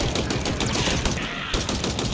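Rapid automatic gunfire from the video game Halo Infinite, a dense, loud burst of repeated shots with a short gap near the end, filling the whole moment without speech.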